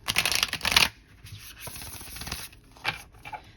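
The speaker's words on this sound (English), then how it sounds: "That's a nice shuffle. That's satisfying." Oracle cards riffle-shuffled up close: a crisp, fluttering burst, then softer rustling and a final quick riffle, with no talking.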